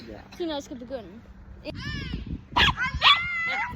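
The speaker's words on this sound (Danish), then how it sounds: "Og det er min hund!" A pet dog gives short barks, yips and whimpering cries in bursts while children and adults talk excitedly around it during a playful race.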